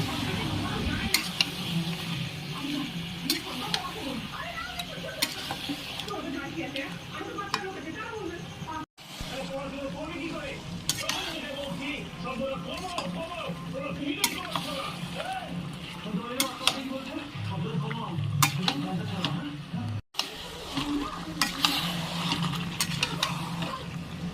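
Coriander, cumin, garlic and ginger paste frying in a pan, a continuous busy sizzle with stirring scrapes and clinks, broken by two brief cuts, and a voice talking over it.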